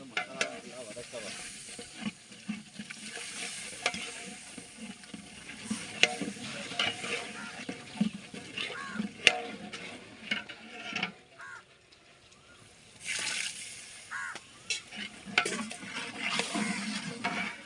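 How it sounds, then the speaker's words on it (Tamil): Biryani masala sautés and sizzles in a pot, with steady stirring scrapes and occasional clinks of utensil against metal, softer and hissing during a brief lull before the stirring resumes. "மசாலா வதக்க"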